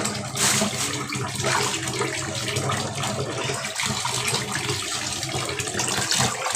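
Whole fish being rinsed under running water, a continuous close splash and tap flow with a few clunks, no talking.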